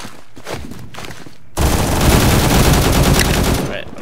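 Automatic gunfire in the video game Phantom Forces, set in a subway station, breaks into a loud, dense, rapid burst after a quieter stretch of scattered shots and movement.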